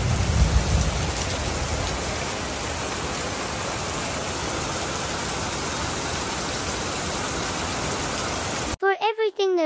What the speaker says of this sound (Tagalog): Umulan po nung napakalakas.